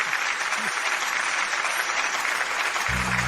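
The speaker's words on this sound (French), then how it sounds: "Applaudissons bien fort, pour nos jeunes mariés" Wedding guests clap for the newlyweds in loud, continuous applause, with a brief low rumble near the end.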